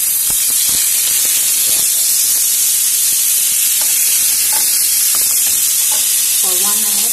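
An Irish club steak fries in a pan with rosemary and garlic, its fat rendering in a loud, continuous sizzle and hiss, with a few clinks and scrapes and a brief voice near the end.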